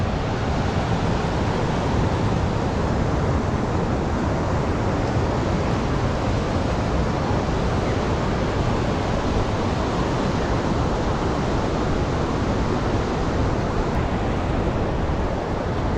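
A river rushes past a wooden footbridge on a trek through the Shimshal mountains, a constant, loud roar of water that never changes, close up and alone.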